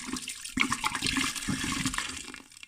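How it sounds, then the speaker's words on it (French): Wine pours into a homemade walnut wine mixture, a close, gurgling splash of liquid that swells and then tapers off over a few seconds. "Vous versez le vin."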